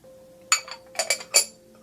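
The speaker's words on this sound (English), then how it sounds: "I'm going to take a little glass of water." A drinking glass of water clinks and knocks a few times, short bright taps spread over under two seconds in a quiet room.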